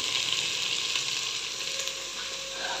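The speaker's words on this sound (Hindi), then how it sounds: "पहले की भिंडियां अच्छी तरह फ्राई करते हैं" Okra (bhindi) fries in a pan with a steady, dense sizzle that stays loud and close throughout, with no talking.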